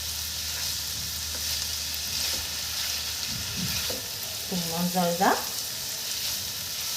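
Meat frying in a pan for a vegetable and béchamel pasta bake, a steady close sizzle throughout, with a brief stirring scrape and a short spoken phrase near the end.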